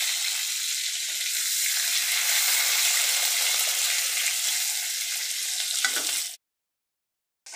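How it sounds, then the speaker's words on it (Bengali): Long-cut potato strips sizzle in hot oil in a wok, a loud, steady frying hiss that runs unbroken before cutting off abruptly near the end. "আলুটা দিয়ে এবার একটু আলুটা ভাজা ভাজা হবে।"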